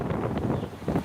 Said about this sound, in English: it is very windy out here as well